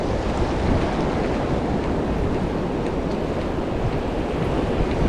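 Rough water slaps and rolls at a river mouth where anglers fish, a continuous close surf roar mixed with gusty wind buffeting, steady and unbroken throughout with nobody speaking.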